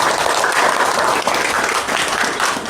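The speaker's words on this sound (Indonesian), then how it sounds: "Tepuk tangan lagi kepada peserta yang paling pintar." A religious study-group anniversary audience bursts into loud, sustained applause, many hands clapping densely and evenly throughout, with no voices standing out.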